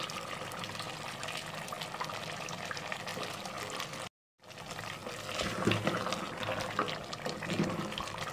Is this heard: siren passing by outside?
no